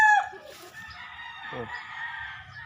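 Young gamecock stag crowing close by in a backyard gamefowl breeding yard, one harmonic crow with a faint second call after it, over low background noise and no speech.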